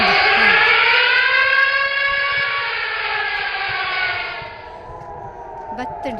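A loud, steady siren wails with a wavering tone, then fades out after about four and a half seconds, leaving quieter background noise.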